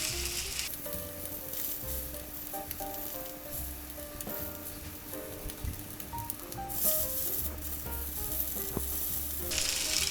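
An eye of round steak sears in a hot pan with a loud, steady sizzle and intermittent spitting pops, close and continuous with no talking.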